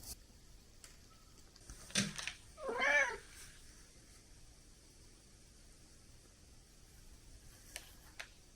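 A rescued cat gives two short, clear meows in quick succession, close by, then falls silent against a faint steady hiss with a few soft clicks.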